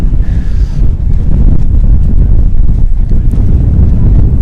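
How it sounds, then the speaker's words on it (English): Strong wind gusts at an outdoor high school football game buffet the microphone in a loud, continuous low roar that never lets up. "Wind picking up, scoreboard being knocked over."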